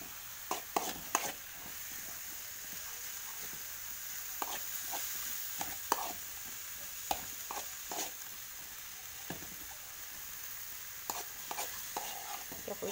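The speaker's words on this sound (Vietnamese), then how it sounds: "Rồi giờ mình xào cái như là cho nó chín sơ nha, chứ thôi gì mình chiên bánh nó vẫn chín nha." Jicama filling is stir-fried in a pan, a soft continuous sizzle broken by frequent sharp scrapes and taps of a utensil against the pan.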